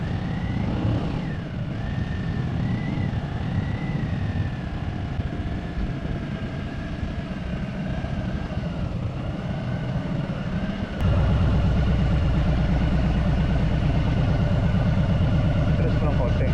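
Harley-Davidson motorcycle ridden along a road in California in cool weather, its engine a steady low rumble with wind noise throughout, growing louder and heavier in the last several seconds, with a rider talking over it.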